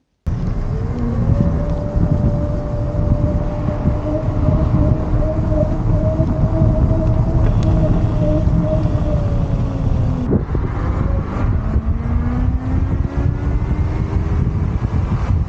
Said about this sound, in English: let's have a quick look at the sound of a Super Soco